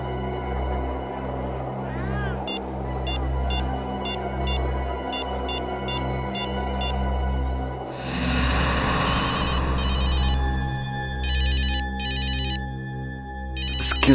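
A telephone rings for an incoming call in a Hindi crime drama scene: repeated bursts of electronic ringtone pulses over a low music bed, joined by a brighter, busier ring pattern partway through. No one speaks.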